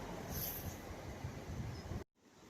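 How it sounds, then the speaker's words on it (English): A Class 175 passenger train on a service from Fishguard Harbour to Cardiff Central rumbles past close by, a loud steady roar of wheels and engine that cuts off abruptly near the end, with no talking. "so 175, 113 on a service from Fishguard Harbour to Cardiff Central."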